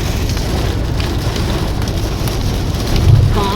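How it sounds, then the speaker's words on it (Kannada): Heavy rain pours down during a road trip through Coorg, a dense, loud, continuous roar of rain with a low rumble swelling near the end. "ಜೋರ್ ಮಳೆ, ಗುಡುಗು ಮಿಂಚು"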